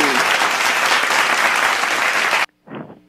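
A studio audience gives loud, dense applause for a White House strategic initiatives guest on a televised talk segment. It stops abruptly after a couple of seconds, followed by a brief voice.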